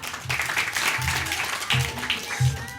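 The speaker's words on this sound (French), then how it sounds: "Merci, on peut l'applaudir." Applause from an audience at a live science storytelling show rises as a steady patter of clapping, mixed with some voices and background noise in the room.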